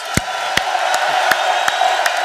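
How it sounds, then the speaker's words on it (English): An audience at a tech company event makes noise on cue: steady, evenly spaced thumps or claps over a continuous crowd roar with scattered whoops. "Guys, that's not enough. Make some noise."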